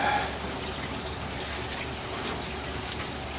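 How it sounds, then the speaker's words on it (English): Thin, steady rush of water running from a homestead tap during a dry spell without rain, faint and continuous with no voices, only a weak trickle rather than a strong flow. "There's hardly any water coming out."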